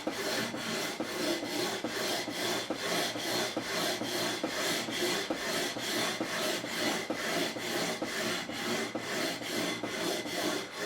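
400-grit sandpaper rubs lightly over the wooden body of a Harley Benton Custom Line SC P90 single-cut electric guitar. Rhythmic back-and-forth rasping strokes repeat close up and evenly, with no talking.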